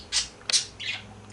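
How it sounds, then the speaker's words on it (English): Birds outside squawk and chirp in three short, sharp calls spaced apart, fairly faint over a quiet background. "as soon as I start talking, the birds start chirping."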